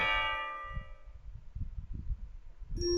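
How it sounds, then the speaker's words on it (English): A school bell in the Katawa Shoujo visual novel gives a bright, ringing chime that fades out slowly, followed by low, muffled thumps and a fresh tone starting at the very end. "The bell rings before Misha can reply, so she ends up laughing instead."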